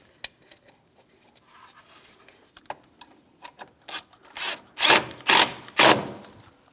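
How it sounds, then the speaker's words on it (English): A Phillips screwdriver drives a screw into the plastic radiator fan control module of a 2007-2014 Ford Edge 3.5L, with soft scattered clicks and scrapes that give way to several loud, broad ratcheting bursts near the end. "continue on with our Phillips head screw. As far as that, just go ahead and start it in and snug it up."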